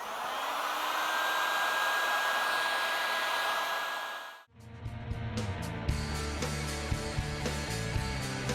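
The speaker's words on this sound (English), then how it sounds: "hit it with a heat gun, get it all shrunk down" Heat gun blowing a steady, loud rush of air while shrinking heat shrink tubing over motorcycle handlebar wiring on a Harley-Davidson, running continuously for about four seconds before cutting off abruptly, followed by quieter clicks and workshop handling sounds.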